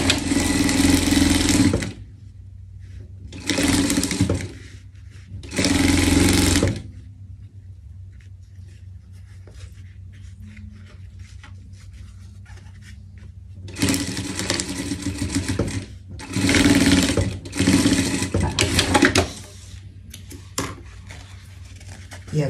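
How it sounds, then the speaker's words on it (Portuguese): A sewing machine stitches a seam joining laces, two fabric pieces and a blanket for a pet chef costume, running in loud bursts of a few seconds each, separated by quieter pauses with faint handling noise. "a gente passa uma costura aqui, tá? Juntando os cadarços, as duas peças e a nossa manta"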